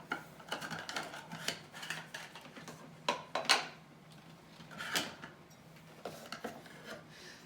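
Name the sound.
jar lids being pulled out of storage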